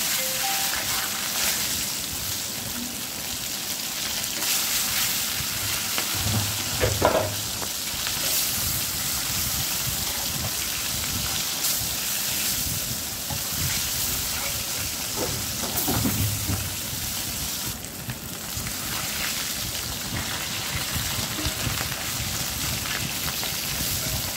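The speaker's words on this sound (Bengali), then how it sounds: "এখন আমি নুন হলুদ মাখানো মাছগুলো তেলে দিয়ে দেবো" Parshe fish coated in salt and turmeric frying in hot oil in a kadai, a steady broadband sizzle and crackle running throughout with a few brief louder spatters, no talking.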